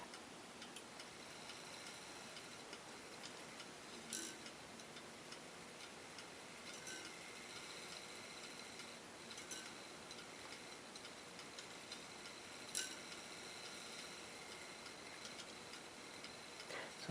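A restored 1910 Junghans B10 mantel clock ticks very faintly and steadily for a long stretch, with a few slightly louder ticks standing out above a quiet hiss.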